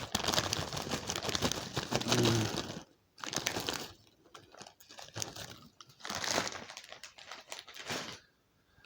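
A bag of Walkers Wotsits Crunchy Flaming Hot crisps crinkling and rustling close up in bursts, with short pauses between handfuls of crackly plastic noise.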